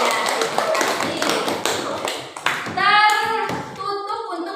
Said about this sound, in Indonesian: Tepuk tangan buat teman kalian yang berani bertanya.